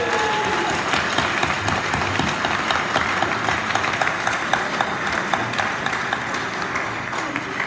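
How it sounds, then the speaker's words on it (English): An audience at a Baldwin County political pork dinner gives a big round of applause for Judy Frazier and Becky Vasco, thick sustained clapping with a few sharper individual claps, steady throughout. "give them, please, a big round of applause for all of them"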